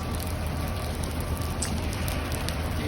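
Rain falls steadily in Taif, Saudi Arabia, as a dense, even hiss of drops on surfaces, constant and fairly loud throughout with no pauses.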